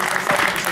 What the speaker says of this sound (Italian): Battete i mani. Un applauso.